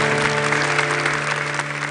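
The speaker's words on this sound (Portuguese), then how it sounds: "Vamos aplaudir o nosso Deus" Applause from a church congregation during a service, steady dense clapping throughout, loud and close, with faint voices beneath.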